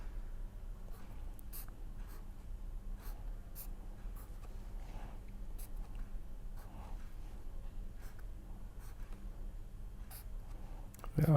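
A pen scratches across paper in short, quiet strokes and taps while a chemical structure is drawn, close and soft over a faint room hum with occasional breaths.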